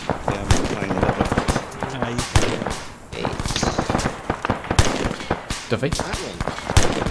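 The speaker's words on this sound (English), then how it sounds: "Well, I'm shooting there right now." Rapid, overlapping gunshots and bursts of automatic fire crack out in an ArmA 3 platoon attack, close and loud throughout, with a voice briefly speaking over the shooting.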